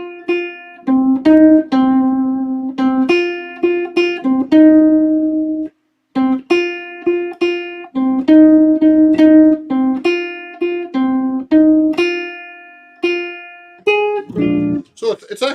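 A bluesy jazz ballad melody on a seven-string guitar, single notes and chords ringing with clear sustain in an unhurried rubato phrasing, played alone with a short pause midway and a few quick strums at the end.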